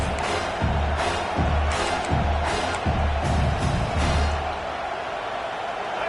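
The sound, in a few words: home crowd cheering in the video game NCAA Football 26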